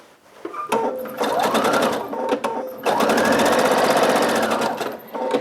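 A sewing machine stitches jelly roll quilt strips front sides together, its motor revving up into fast, steady runs of needle clatter with a brief pause between two long bursts, close and loud.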